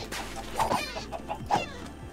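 Chickens in the Minecraft video game cluck in a few short, separate bursts over a quiet, steady game backdrop, with no talking.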